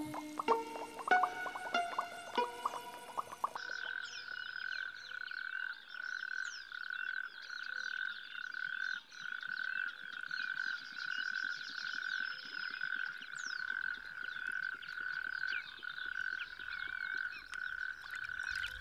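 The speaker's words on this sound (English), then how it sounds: "Face to face with frogs" Frogs croak in a steady, continuous chorus with a sustained trilling tone and scattered chirps, heard outdoors at moderate distance after a brief burst of music at the start.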